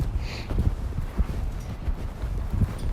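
A horse loping around a round pen, its hoofbeats landing in a steady, rhythmic pattern of soft, dull thuds close by, with light wind rustle and no talking.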